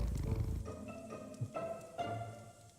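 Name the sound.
cat purring in the video game Hero-U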